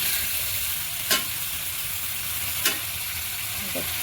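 Koi fish and cauliflower curry sizzles steadily in a pan as spices and water are stirred through, with a couple of sharp spoon scrapes against the pan standing out from the constant bubbling hiss.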